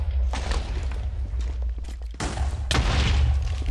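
Cannons firing during a Minecraft ship battle: several deep, loud booms at irregular intervals, layered over a continuous low rumble, with no talking.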